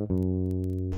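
A bass guitar plays a brief fill from a song, one plucked low note sustaining smoothly and evenly, close and alone.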